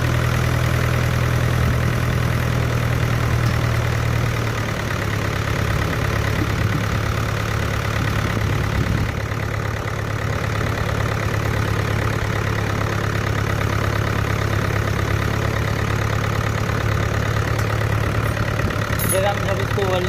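A Miller diesel welding machine engine idles with its throttle set too high, a steady close, loud drone running throughout, with a lower, heavier tone in the first few seconds before settling into an even hum.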